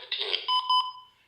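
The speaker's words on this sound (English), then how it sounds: "Hear that beep after the 15?" A two-way ham radio powering up on channel 15 gives a short electronic beep: a few bright, steady tones lasting under a second, fairly close and alone with no talk, trailing off into silence.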